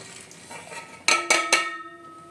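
A spoon scraping and knocking in a pot while chicken is stirred with spices, a few soft strokes followed by three sharp metallic clanks close by.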